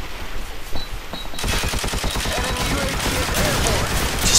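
A rapid burst of automatic gunfire in Call of Duty 4 team deathmatch rattles out loud and close, dense rhythmic shots running continuously for several seconds after a quieter opening.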